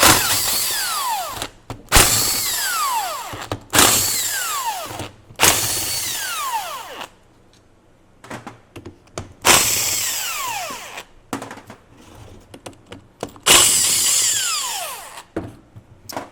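A power tool with a 14 mm socket spins out the differential cover bolts on a 100 Series Land Cruiser, giving about six loud, close bursts of whirring separated by short pauses.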